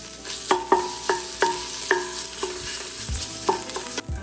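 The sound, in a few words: tomato paste cooking and being stirred in a pot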